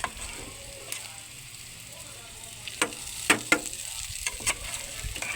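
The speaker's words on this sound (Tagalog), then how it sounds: "ilagay po natin yung leftover rice natin." Leftover rice fries with cooked onions in a pan, making a steady sizzle under several sharp scraping and stirring knocks from a utensil. It is close and moderately loud, with no speech.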